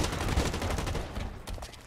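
Rapid gunfire in the online shooter Blacklight: Retribution, bursts of automatic shots crackling one after another in a dense, loud barrage with a sharper report near the end.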